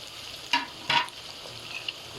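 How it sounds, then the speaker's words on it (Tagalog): Pork liver sautés in a pan for lomo lomo: a quiet background sizzle with two sharper bursts of spattering as the pieces are stirred. "Yung liver, yun ang huli natin igigisa."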